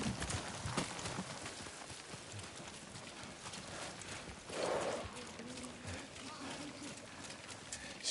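Hooves of several horses clop unevenly beneath voices for several seconds, with rustling in the background as the riders halt near a camp.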